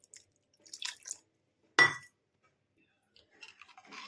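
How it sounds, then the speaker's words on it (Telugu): Milk goes into a pot of chana dal payasam and is stirred, giving a few quiet drips and splashes, then one sharp spoon-on-metal clink, then light scraping with silence between the sounds. "ఇప్పుడు ఈ పాలు పోసేసి కలిపేసుకుందాం"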